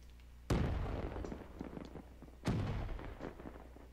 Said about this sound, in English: Ready for this bomb nade?